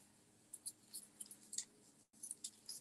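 Paper flowers being crumpled by hand for a handmade card, a quiet series of crisp crinkling rustles in irregular bursts, close up, with a brief pause near the end before more crackling.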